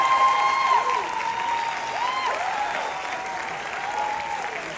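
A theatre audience applauds a singer at a live stage show, with sustained, even clapping mixed with scattered whoops and crowd noise, and an announcer's voice faintly heard beneath.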